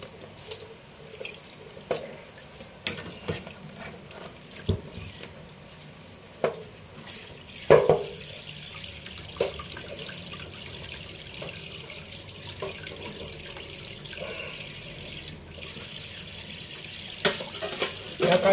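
Water runs steadily from a tap into a sink while something is rinsed clean, a continuous splashing stream with occasional louder knocks and clatters, close by and alone without talk.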